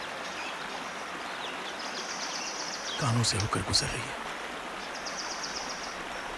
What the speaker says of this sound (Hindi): पंछियों के उड़ने की और झरने से पानी बहने की आवाज